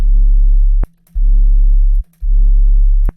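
A loud, deep sub-bass sine tone shaped with EQ pulses in three long sustained notes with short gaps between them, each opened or closed by a sharp click.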